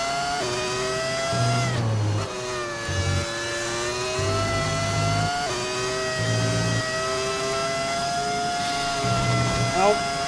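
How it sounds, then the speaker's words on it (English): An F1 race car engine from the F1 25 video game, with a modded engine sound, whines and revs continuously at high pitch, shifting through gears with brief dips and climbs under sustained driving. "It comes with like all the previous F1 game engine sounds"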